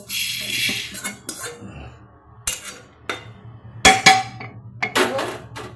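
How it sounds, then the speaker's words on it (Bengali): Fried lentils being tipped into a pressure cooker in a home kitchen, with scattered clinks and knocks of metal cookware, sharp brief bursts and a soft rattling pour, close and moderately loud, no talking. "এবার আমি কুকারের মধ্যে ডালটা ঢেলে নেব"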